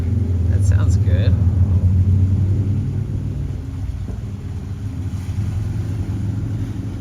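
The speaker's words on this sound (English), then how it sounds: "Got that rush hour PCH traffic." Rush hour traffic streams along the Pacific Coast Highway in Los Angeles, a steady low rumble of cars with passing engines, and a voice talks over the continuous road noise.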